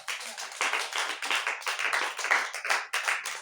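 A church congregation clapping for the Lord, a dense run of hand claps in quick uneven rhythm, fairly close and continuous, with no voice over it.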